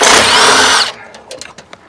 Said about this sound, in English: let's see if I can get these security screws off the inside back corners